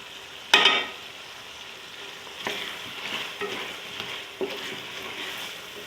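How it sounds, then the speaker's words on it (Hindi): Tomatoes are stirred and mixed in a pot of Hyderabadi aloo matar pulao with a low sizzle underneath. A sharp scrape of the spoon comes near the start, followed by a couple of softer stirring knocks, with no talking. "अभी टमाटरों को भी मैं अच्छी तरह मिक्स कर लूँगी"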